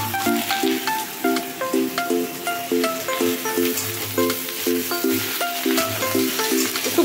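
Snake gourd pieces sizzle steadily in a pan as they are stirred, with a melodic tune playing throughout.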